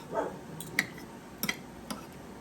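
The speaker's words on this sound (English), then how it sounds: "Sorry you have to hear the doggies bark." A few short, sharp dog barks, somewhat distant and faint, spaced irregularly against a quiet background.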